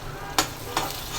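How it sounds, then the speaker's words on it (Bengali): Onion frying in hot oil in a pan for shrimp bhuna gives a steady low sizzle, broken by two sharp stirring scrapes about a third of a second apart; no one speaks. "চিংড়ি মাছ ভুনা করার জন্য পেঁয়াজটা ভেজে নিচ্ছি।"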